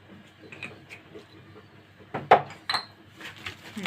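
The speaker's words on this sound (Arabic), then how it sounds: "نقلب بقى كله على بعضه كده" Chicken coated in cumin and black pepper is turned over in a bowl with a spoon, giving scattered clinks and scrapes that build into a few sharper knocks against the bowl, close and fairly quiet.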